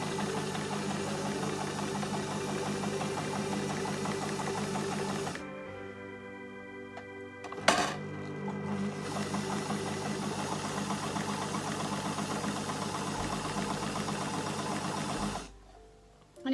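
A sewing machine stitching Christmas napkin fabric runs in a steady, close mechanical whir, pauses briefly with a sharp click, then resumes before stopping near the end.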